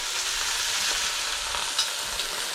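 Braciole sizzle in hot olive oil in a pan, a close, steady crackling hiss with small pops and no talking.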